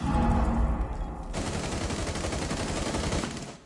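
P90 submachine gun fire in Rainbow Six Siege, a loud continuous automatic burst kicking in after a brief lower rumble and hammering on steadily before cutting off at the end.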